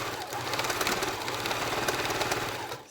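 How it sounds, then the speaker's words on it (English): A sewing machine stitches quilt fabric for a nine-patch block, a steady fast mechanical chatter running close and continuously before stopping abruptly at the end. "So I'm gonna quickly sew that."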